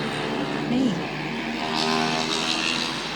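Teenagers ride motorcycles fast late at night on a city road, producing a continuous moderately distant engine drone with a revving swell, and voices murmur faintly underneath.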